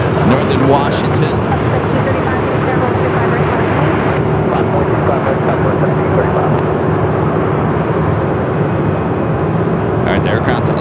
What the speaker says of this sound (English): All right, the aircraft lining up to 25 rights. American A319, Old America westbound.